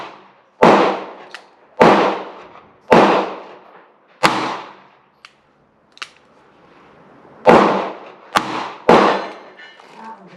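Gunshots at an outdoor shooting range, fired with Lee 410-116-WC cast wadcutter loads: about eight sharp reports spaced roughly a second apart, loud and close, with a few fainter distant shots from other shooters between them.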